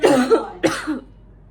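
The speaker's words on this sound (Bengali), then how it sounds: "কাশি আরম্ভ হয়ে যাচ্ছে।" Two sharp, close coughs follow one another in quick succession and then fade to quiet.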